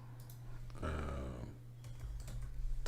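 Computer keyboard typing, with a quick run of key presses set against a low steady hum, fairly soft and close, with no speech.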